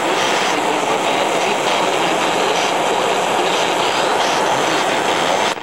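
An AM radio tuned in wide mode hisses with a dense, steady wash of static and digital HD Radio interference from a neighbouring station, loud and unbroken throughout with no voices.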